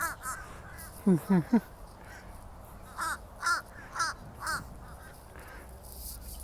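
Several crows caw from a distance in short bursts of two and three calls, separated by pauses, over faint background noise.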